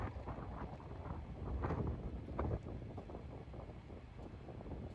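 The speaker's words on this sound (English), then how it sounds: "Yeah, it's a little windy." Steady wind buffeting the microphone outdoors on a beach on Sanibel Island, a low rumbling roar with gusts swelling and fading, no voices.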